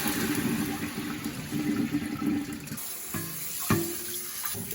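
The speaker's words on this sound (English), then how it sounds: "drain the soaked rice in a colander" Soaked rice for homebrewed Korean rice wine being drained and rinsed in a colander under a running tap, a steady close rush of water that thins out partway through, with a few light knocks.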